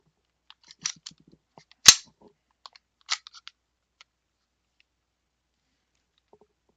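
A 6 mm airsoft pistol styled as a .50 AE is handled, giving faint clicks and rattles, then one sharp, close shot, followed by a few more mechanical clacks and a second crack, all quiet and sparse around them.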